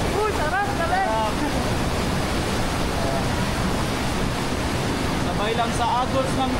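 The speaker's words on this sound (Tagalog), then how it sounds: "Sabay lang sa agos ng tubig." Flowing river water rushes steadily through a canyon during canyoneering in Badian, Cebu, a constant broad wash with brief voices calling over it near the start and end.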